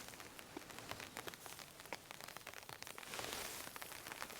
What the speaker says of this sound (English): this is kind of like the ambience of just being out in the rain